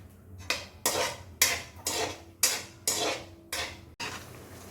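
A spoon scraping and clattering in a pan as chopped dry fruits roast for a laddu, about eight distinct metallic strokes in a steady rhythm, close and fairly quiet, with no talk.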